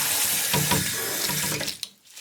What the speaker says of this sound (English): the agitation forces the water into all the little curls and crevices